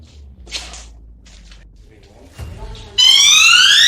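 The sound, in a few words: alarm going off after morgue table is tapped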